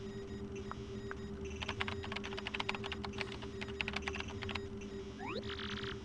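Rapid, light keystroke clicks tap out a message on a communicator keyboard in Paper Mario: The Thousand-Year Door, quiet over a steady low hum, ending with a rising electronic chime.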